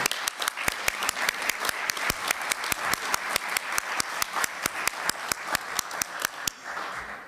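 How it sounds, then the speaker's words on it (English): An audience at a 2017 Concordia Europe policy event applauds, with sharp, closely spaced claps standing out over a steady crowd wash, holding an even rhythm before tapering off at the end. "I want to give Greece applause for that"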